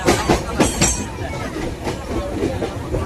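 Steady rumble and rhythmic rattling of a moving Konkan Railway train from inside a nearly empty carriage, with brief voices and clacks early on.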